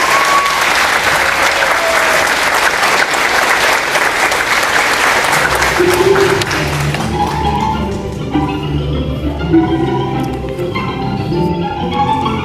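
An audience at a school Shark Tank pitch event gives loud, sustained applause for about seven seconds, then it thins out into scattered claps, thumps and murmuring voices.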